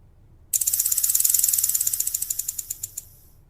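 A rattlesnake-style rattle sound effect for a lamia: a sudden burst of fast, dry, rattling clicks that starts sharply and slows into separate pulses before cutting off, heard alone against near silence.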